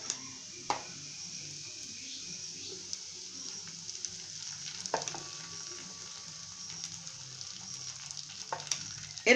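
Onions sizzle steadily in a pan while being fried for onion pitha, a soft continuous hiss with a few faint stirring knocks and clinks, heard close and without talk.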